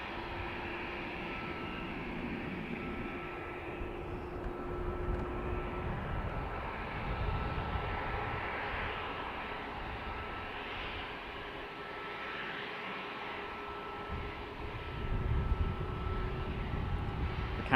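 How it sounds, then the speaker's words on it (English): A Ryanair plane from Valencia lands at Dublin Airport. Its engines make a steady, broad roar that holds for the whole stretch and swells slightly near the end, with no voices. "Ryanair from Valencia next to land."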